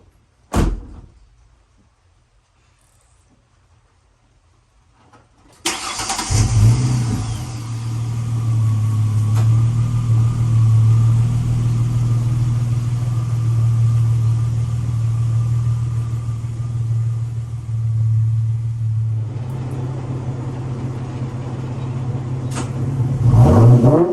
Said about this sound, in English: turn this car around and back it into the garage.